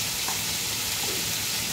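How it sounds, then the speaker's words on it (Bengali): Mutton stew with vegetables stirred in a pan, producing a dense, loud, continuous sizzle and hiss over a short stretch, with no talking. "দিয়ে আবার একটু নাড়াচাড়া করে নেব।"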